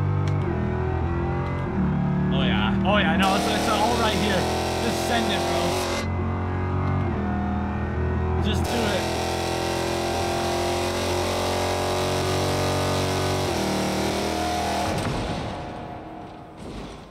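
A loud 1000 hp Dodge Demon engine in the video game BeamNG.drive roars and revs continuously with gritty, crackling bursts, and a voice speaks over it partway through.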